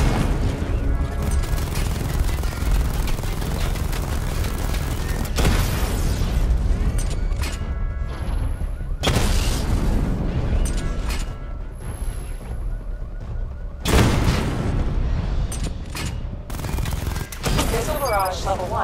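Repeated heavy explosions and rapid gunfire bursts from a missile barrage destroying targets in the video game Arkham Knight, loud and continuous, with several sharp booming onsets and dense crackling throughout.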